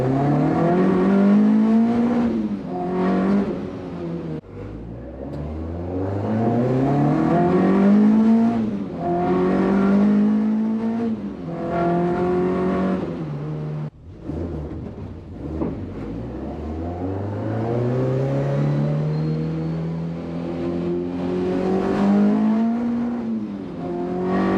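Car engine revving repeatedly while driving, rising and falling through the gears in close, loud, continuous sweeps with no talk; the car has an open differential.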